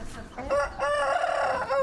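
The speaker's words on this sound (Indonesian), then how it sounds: "Ini kandang gua, ini semua ayam gua." A rooster crows in a long, drawn-out call inside a chicken coop while hens cluck nearby, close and clear.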